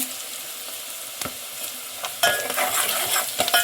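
Curry leaves, garlic and onion sizzle in hot oil in a pan for bitter gourd kuzhambu, a steady close crackle broken by several scraping stirs, with no voices.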